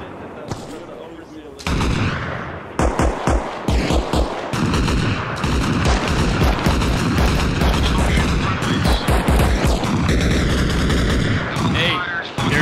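Rapid gunfire rattles through a large multiplayer battle in ARMA Reforger, with sharp close bursts and single shots in an irregular rhythm and distant reports behind them, under intermittent voices on chat.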